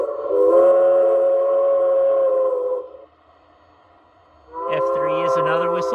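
Steam whistle of a Berlyn K-37 model steam locomotive sounds loud and steady as a multi-chime tone for about two and a half seconds, stops, then returns briefly with a second burst near the end.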